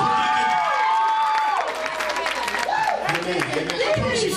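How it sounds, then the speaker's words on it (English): Party crowd at a New Year's Eve gathering clapping and cheering, with scattered claps and shouts mixed with overlapping voices and chatter, fairly close and lively. "Can y'all clap for Deacon Didi?"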